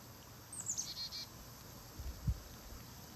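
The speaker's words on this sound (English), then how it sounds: "My bird app says it's a Carolina chickadee." A Carolina chickadee gives a short series of faint, high chirps in a garden, followed by a soft low thump, with no voices.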